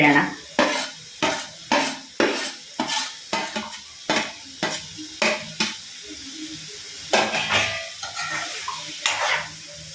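A spoon stirs chopped coriander into soya chunks gravy in a pan, producing a steady rhythm of loud, close scraping strokes against the metal, repeated roughly every half second with soft sizzling underneath.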